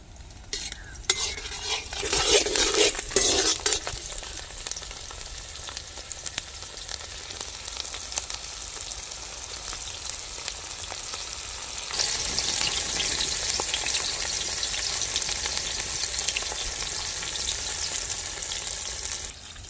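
Onions fry in oil in a pan for a jilebi fish curry, a loud, continuous sizzle with stirring and scraping near the start, then a steadier hiss that swells again midway.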